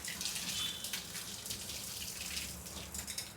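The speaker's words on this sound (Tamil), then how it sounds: "அப்படியே தண்ணி வடிச்சுக்கலாம்." Water pours off boiled green plantains, draining from a pot as a steady splashing gush that runs for a few seconds with no talk.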